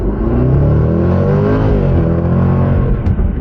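A supercharged 2020 Jaguar F-PACE SVR in its most aggressive dynamic mode with the ZF automatic accelerates hard, its engine roaring loud and close with a steadily climbing, unbroken drone.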